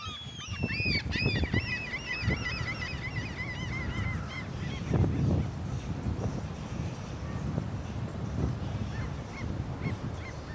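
Birds near black mangroves on Blue Lagoon Island in the Bahamas give a burst of rapid honking, goose-like calls early on, then sparser cries over wind and outdoor rumble, moderately near and without speech.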